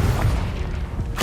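Confringo explosive spell in the video game Hogwarts Legacy, heard as a loud booming blast with a deep rumble that holds through its brief span, then a fresh burst right at the close.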